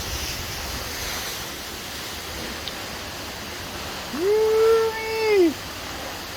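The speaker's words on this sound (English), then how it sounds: "No waterfall is complete unless you can walk behind it." Broad, steady roar of the Twin Falls waterfall in Idaho, heard up close from behind the falling water, with a person's voice briefly whooping over it.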